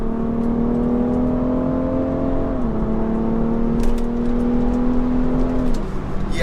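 A BMW 335d xDrive launches off the line in first gear with a manual shift, its engine note rising steadily in a close, loud pull that dips briefly midway before climbing again.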